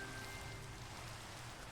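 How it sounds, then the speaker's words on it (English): Steady, soft rain falls continuously in the blocky world of Minecraft, a quiet even hiss with no voices over it. "as the rain comes down."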